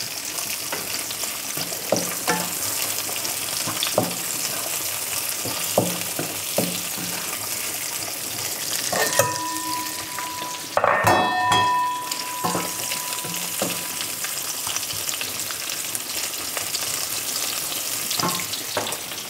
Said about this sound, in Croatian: Sad ćemo i slaninu miješati.